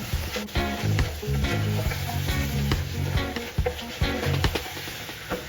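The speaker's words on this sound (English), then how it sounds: "are you hearing that sizzle? That is what you want." Curried goat meat sizzling loudly in a hot pot, a dense steady frying hiss with scattered crackles and pops throughout.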